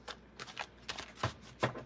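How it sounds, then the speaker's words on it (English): Tarot cards being shuffled by hand in a series of quiet, papery riffling bursts, several soft flurries of card noise spread across a couple of seconds with no talking. "So we're going to shuffle these cards here"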